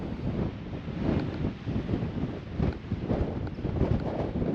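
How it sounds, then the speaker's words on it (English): Outdoor wind on open rocky ground buffeting the microphone in rough, surging gusts, a loud rumbling roar that rises and falls unevenly throughout. "Here comes the wind."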